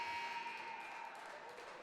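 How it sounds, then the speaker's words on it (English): A final buzzer sounds in an arena at the end of a freshman high school ice hockey game: one steady, sustained electronic tone lasting nearly two seconds, fairly faint, over low crowd noise. "Final buzzer sounds."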